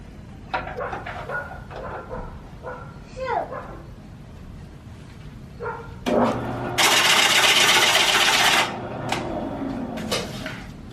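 A wood lathe turns a California fir bowl, with short scraping cuts and taps early on and then a loud, sustained hissing cut for about two seconds before tapering off. A dog barks in the background.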